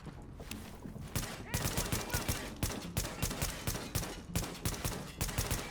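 Rapid bursts of gunfire in the video game The Division, sharp repeated shots in quick rhythmic volleys, loud and close with brief gaps between strings.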